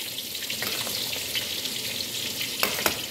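Chicken pieces are lowered into a pot of boiling water for a Taiwanese-style bamboo shoot soup, giving a steady bubbling hiss broken by a few close splashes and clinks, with no voices.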